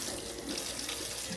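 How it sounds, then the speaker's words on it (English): Hot water runs steadily from a kitchen tap into a container for baking prep, a constant close splashing rush with no talk. "now let's fill her up with, I'm gonna do hot water"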